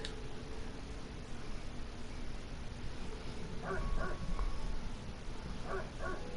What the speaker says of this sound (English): But the dog was barking like it lost its mind.